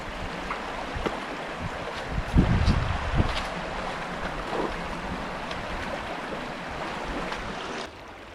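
Water flowing across a gold panning sluice in a Scottish river, a continuous rushing wash with occasional splashes and a few knocks, steady and close throughout.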